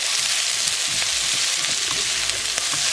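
Okra stir-frying over high heat in a non-stick pan gives a loud, steady sizzle with faint stirring scrapes, close and continuous throughout.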